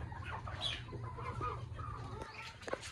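Native country hens on a small farm cluck steadily in a short close-up burst, several birds overlapping with no talk.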